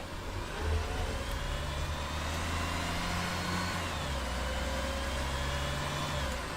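Bus engine in the OMSI 2 driving simulator, a steady droning mid-range engine note with low harmonic tones shifting slightly as it runs, loud and constant throughout.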